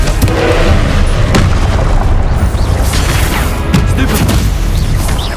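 Booming spell blasts and crashes from combat in the video game Hogwarts Legacy, loud and continuous, with repeated sharp impacts layered over a dense rumbling battle din.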